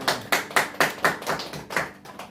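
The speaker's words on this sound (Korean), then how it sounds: "주님께 영광을 박수 드립니다." Congregational clapping at a church service, a steady rhythmic pattern of claps about four per second, fairly close and clear, softening toward the end.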